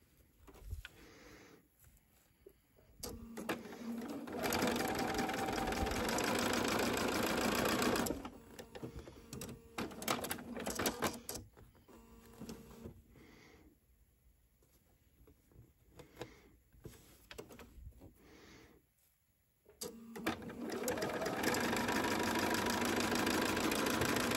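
A sewing machine stitches quilt block pieces in bursts of fast, even whirring and rattling, each run lasting several seconds with quiet pauses between, heard close and alone.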